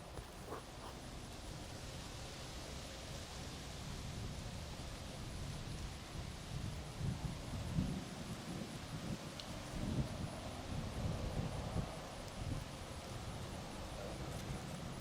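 Wind gusting across an outdoor disc golf course at a match play final, a faint, continuous rushing with soft rustling that swells in places, heard alone without talk.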